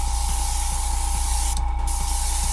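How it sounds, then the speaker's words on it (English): A cheap airbrush with a 0.2 mm needle releases a wide spray, giving a steady, loud hiss of air over a constant compressor hum with a faint rhythmic pulse. "Here's your wide spray."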